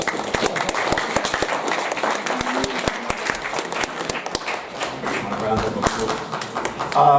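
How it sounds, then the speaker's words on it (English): Applause at a school's senior assembly, a crowd of hands clapping loud and close with sharp individual claps, while a voice speaks over it near the end. "Let's give them a round of applause"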